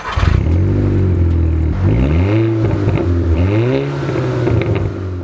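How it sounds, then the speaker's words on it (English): A high-mileage Volkswagen Golf GTI Edition 30's four-cylinder engine turns over and catches, then revs up and down in a few rising and falling swells before settling, loud and close. "have a little listen to the wonderful sound of that little 4-cylinder engine"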